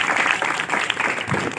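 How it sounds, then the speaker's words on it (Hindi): Audience applause for a singer at a foundation day celebration, loud and dense clapping sustained throughout with no speech on top. "तालियां हो जाए एक बार विवेक के लिए।"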